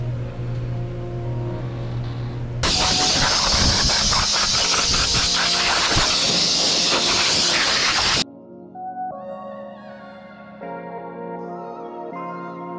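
Coating sprayed through a long hose nozzle onto a Dana 60 axle in a shop, a loud steady hiss bursting in for about six seconds, then cutting off to quieter background.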